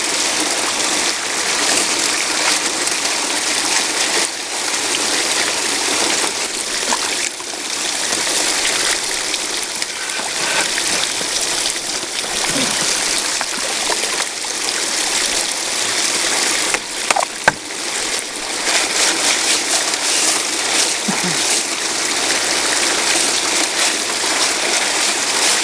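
Gold wash plant running water over dug clay, giving a constant broad rush and gush of flowing water with small splashes, steady and fairly close.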